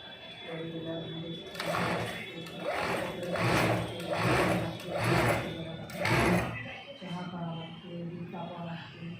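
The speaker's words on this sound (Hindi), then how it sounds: "ये जो हमारा 5 थ्रेड का मशीन होता है, इसमें सिलाई और ओवरलॉक दोनों होता है।" A 5-thread sewing and overlock machine stitches in repeated short bursts with a regular rhythm, close and fairly loud, while a person talks over it.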